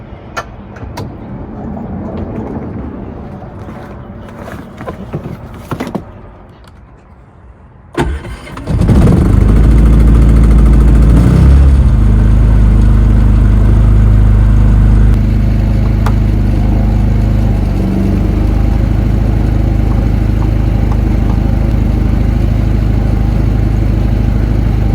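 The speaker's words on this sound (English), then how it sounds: "So I'm going to start the generator." An RV generator cranks over and catches, then settles into a loud, steady low-pitched running drone that continues for the rest of the stretch after a quieter opening with faint background noise.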